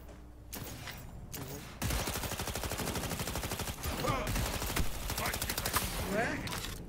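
Rapid automatic gunfire from a weapon in the video game Cyberpunk 2077, long sustained bursts of shots with brief gaps, loud and close.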